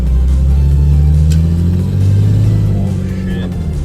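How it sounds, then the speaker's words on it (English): A Barra-swapped Ford EA Falcon drives with a leaking exhaust, its engine droning loud and close with a deep rumbling tone that rises and falls slightly under steady throttle, alone without talk. "The exhaust is leaking way harder than it used to."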